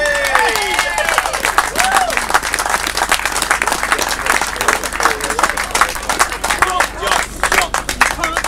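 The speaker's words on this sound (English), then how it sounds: "Big round of applause, please." Crowd applause at a grasstrack sidecar championship meeting, loud and dense clapping that runs steadily from start to finish, with a voice talking over it at points.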